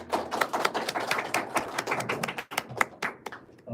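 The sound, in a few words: audience applause welcoming the dean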